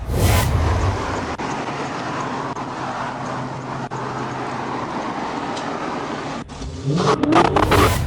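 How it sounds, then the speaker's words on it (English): A green Dodge Challenger's engine drones loudly up close, then revs hard near the end as the car accelerates away from a traffic stop, its pitch climbing. "the green Dodge Challenger suddenly accelerated, attempting to flee"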